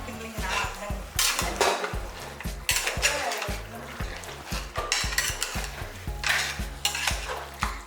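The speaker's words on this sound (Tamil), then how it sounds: "பாருங்கள் மட்டன் வந்து நல்லா வதக்கிடலாம்" Mutton sautés in a pan with quick, rhythmic scraping and clanking of a spatula against the metal, repeated steadily over a continuous sizzle.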